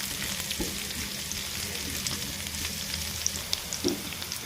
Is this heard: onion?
yes